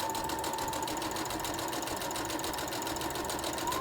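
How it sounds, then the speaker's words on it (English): Sewing machine running steadily while stitching a fabric dog dress, a fast continuous mechanical whir held at even loudness throughout, close up with no talking. "Just put the needle down and start sewing."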